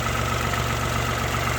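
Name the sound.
Peugeot 107 engine idling with strange noise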